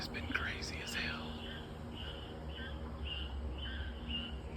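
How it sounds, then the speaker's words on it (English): Frogs croak at night in Baguio City, Philippines, as a steady chorus of faint, repeated calls blending with an insect-like hum, with a soft whispered voice near the start. "the sounds of the frog in Baguio City, Philippines"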